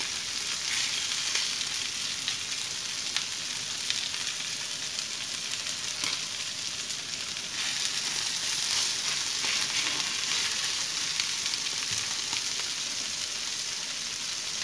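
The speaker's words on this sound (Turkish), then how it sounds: "Gördüğünüz gibi gayet güzel pişiyor." Anchovies shallow-fry in a small amount of oil, making a dense, steady, close-up sizzle that barely changes over the whole stretch, with no voices.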